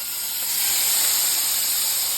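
Teriyaki sauce hitting a hot pan beside deer steak, a loud, steady hiss of steam and sizzle that holds without letup.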